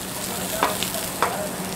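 Onions and peppers sizzle in olive oil in a pan, a steady bright frying hiss with a couple of soft stirring scrapes, close and alone.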